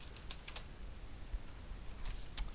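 Quick, light clicks of a computer keyboard as a WinDbg debugger command is typed, close and fairly quiet, in short bursts with brief pauses and no talking.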